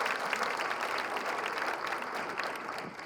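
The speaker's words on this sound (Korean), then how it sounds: "네, 모두 한 해 수고하셨다는 의미로 큰 박수를 부탁드리겠습니다." Sustained applause from a meeting audience at a city government year-end senior staff gathering, dense and steady throughout with no talk over it.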